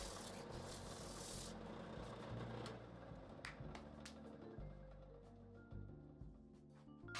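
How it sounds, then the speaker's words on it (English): A wooden dish turning on a lathe is sanded smooth. There is a continuous soft, gritty rubbing hiss, faint and even throughout, with no talking. "I started to sand it down to make sure it was all nice and smooth before it was ready to come off the lathe"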